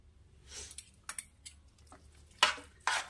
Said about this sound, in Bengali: এরকম করে নাড়িয়ে এবারে সার্ভ করব হচ্ছে আমাদের নুডলস স্যুপ